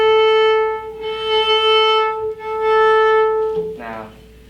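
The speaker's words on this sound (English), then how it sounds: "a harmonic will sound like this." A harmonic note on a string instrument rings as a sustained, light tone with a clear stack of overtones, held for several seconds with faint room noise and a brief touch of another sound near the end.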